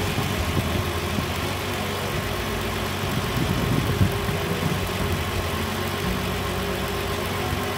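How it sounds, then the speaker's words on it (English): A 3.5L engine in a 2011 Hyundai Santa Fe GL Sport AWD idles steadily with an even, continuous rumble and hum, moderately loud and close, with no talk over it. "Look how nice that engine's turning over."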